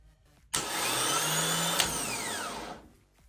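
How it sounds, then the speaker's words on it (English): A car starter motor from an MR2 Spyder runs on a bench with 12 volts applied, its solenoid clicking in and the motor whirring loudly and steadily for about two seconds before winding down. "As soon as I touch the solenoid, that guy will extend out and start spinning."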